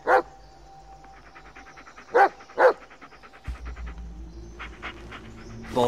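Bullet, a dog in the Blair Witch video game, gives a few sharp, close barks early on. Quicker panting and softer yips follow, with faint background ambience underneath.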